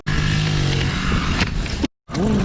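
A small pit bike engine roars at steady high revs during a wheelie, close and loud, then cuts out briefly before revving up again.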